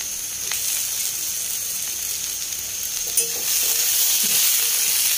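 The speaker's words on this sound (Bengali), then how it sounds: "চলো আমার পেঁয়াজটা ভাজা হয়ে গেছে, আমি এতে এবার টমেটোগুলো তুলে দেবো।" Tomatoes going into onions already frying in a pan for a home-style chicken and crab kasha, giving a steady, close hiss of sizzling oil that holds throughout and swells slightly louder near the end.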